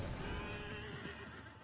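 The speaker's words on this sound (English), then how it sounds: "I see two of your horse, Will." A horse in the video game Red Dead Redemption 2 neighs in one loud, close, drawn-out whinny that fills the moment, with faint hoof clops beneath.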